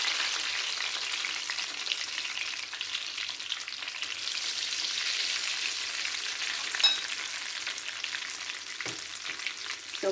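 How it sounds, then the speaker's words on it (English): Sweet rolls fry in hot oil, a steady bright bubbling hiss that runs unbroken and close, with a soft clink or two near the end. "So we're going to get those fried up."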